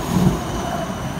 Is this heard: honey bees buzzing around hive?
no